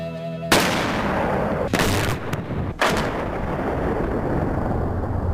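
Explosive welding charge from a box of white powder detonating to weld metal plates, heard from a bunker: a sudden loud boom at once fills the clip, followed by a long rumbling roar with a couple of further blasts.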